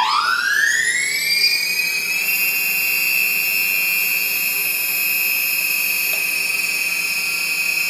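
Motors on a DJI Phantom 2 Vision Plus drone spin up to full speed: a loud, close whine climbs steeply in pitch over about two seconds, then holds as a steady, piercing tone.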